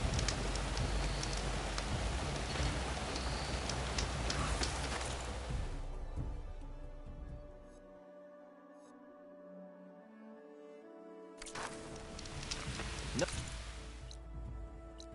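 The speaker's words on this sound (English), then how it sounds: "Down to a drizzle. Almost over." Rain in the video game Horizon Forbidden West hisses loudly at first, then thins and nearly stops into a faint drizzle with sustained tonal ambience, before a brief renewed patter of drops.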